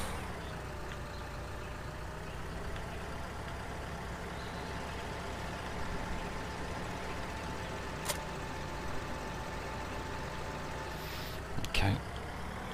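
A tractor engine in Farming Simulator 2013 drones steadily at a low, constant pitch, with a couple of brief clicks and a short burst near the end.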